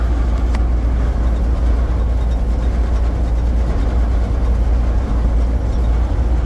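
A car drives along a bumpy road, giving a loud, continuous low rumble of engine and tyre noise with faint jolts from the rough surface; no one talks.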